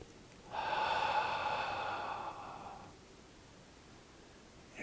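One slow, deep breath drawn in and released through the nose, a soft airy rush that swells, holds for about two seconds and fades, followed by quiet.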